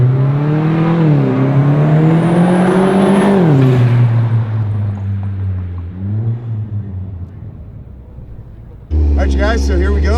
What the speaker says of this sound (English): so here we go for a little cruise in the Vanderhall Venice